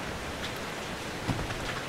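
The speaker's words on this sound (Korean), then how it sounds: "아예 피에 비가 내리네" Blood rains down steadily in the horror video game Outlast 2, a soft, even hiss of falling drops with a faint patter, unbroken and moderately quiet with no voices.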